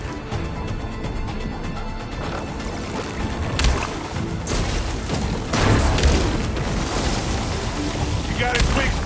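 A fiery boom from a blast in the video game Horizon Forbidden West, erupting loudly over a dense roar of wind and water-like rumble, with several heavy bursts swelling through the mix.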